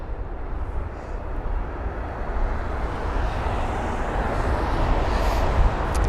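Lufthansa airliner in the carrier's old livery at London Heathrow, a steady broadband jet roar that swells slightly and holds at close range throughout, with no voices.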